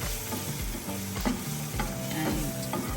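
Maggi noodles being stirred in a frying pan, a busy scrape and clatter of utensil against metal over a continuous sizzle, close and steady with rhythmic strokes throughout.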